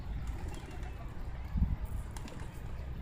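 Pigeons, newly kept birds at a rooftop loft during feeding, coo softly in low, murmuring bursts, with a slightly louder swell midway, under a continuous background rumble.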